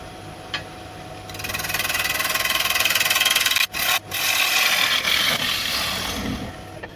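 A woodturning tool flattening the face of a wooden bowl on a lathe, a loud steady scraping hiss that runs continuously and breaks off briefly twice midway before resuming, with no talk.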